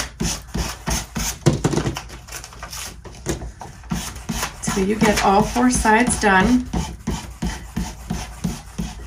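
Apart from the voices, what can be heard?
sanding wood with sanding block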